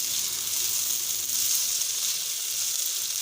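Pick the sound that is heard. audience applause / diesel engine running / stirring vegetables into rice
stirring vegetables into rice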